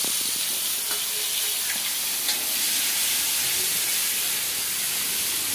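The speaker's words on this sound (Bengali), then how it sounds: "আমি সজনে ডাঁটা আলুটা ভেজে নিচ্ছি সেই তেলে" Drumsticks and potato pieces fry in oil left from frying fish, giving a steady, dense sizzle with soft hissing and occasional stirring clicks, close and continuous with no one talking.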